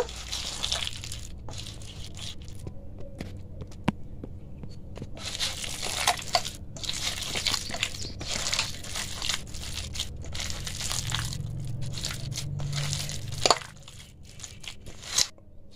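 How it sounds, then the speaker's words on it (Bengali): Raw green jackfruit squeezed and mixed by hand in a bowl, a steady run of soft wet crunching and squelching, close and alone, with occasional light knocks. "এবার চেপে চেপে এটাকে ভালোভাবে মেখে নেব।"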